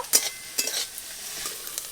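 Onion, ginger and garlic frying in a little oil, a soft steady sizzle with a few quick scraping stirs of a utensil against the pan.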